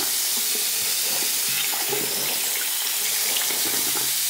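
Running tap water while hair is being washed, a steady close hiss and splash of the stream that carries on evenly and unbroken throughout.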